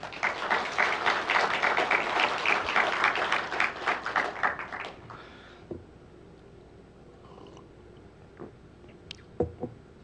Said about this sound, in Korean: 우리 하나님께 감사하다고 박수 한번 하실까요?